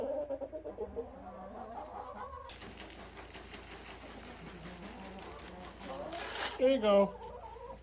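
Hens cluck around a farm coop, their calls steady in the background while someone talks to the birds, with a louder burst of clucking near the end.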